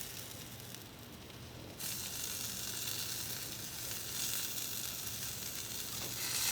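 Philly cheesesteak meat and vegetables hit a hot flat top griddle, a soft steady sizzle that jumps louder partway through and keeps hissing evenly, with no talking.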